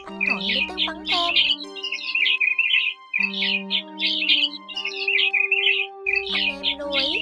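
Recorded song of a white-headed migratory starling: rapid high-pitched chatter and twittering phrases repeated in bursts, close and loud, with whistled notes and a brief pause midway before the song resumes.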